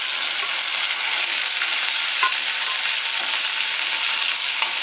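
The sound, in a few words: okra pieces frying and being stirred in a pan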